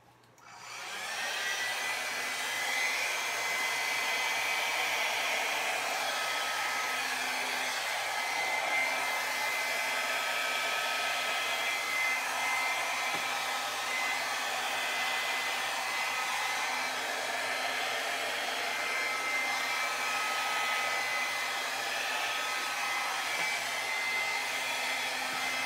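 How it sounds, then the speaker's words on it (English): A hair blow dryer runs steadily for the whole stretch, a loud continuous whoosh of air with a motor hum while drying hair, close by and with no talk. "we're going to go ahead and we're going to take our blow dryer"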